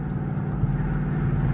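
A Chrysler 300C AWD Hemi engine drones under acceleration on a night drive, a steady low rumble from inside the car with faint intermittent ticking above it.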